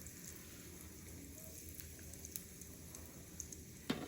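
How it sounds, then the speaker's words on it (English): Mustard seeds and asafoetida powder sizzling in hot oil, a steady close crackle with scattered sharper pops, the loudest near the end. "I'll add about the same amount of mustard seeds and some asafoetida"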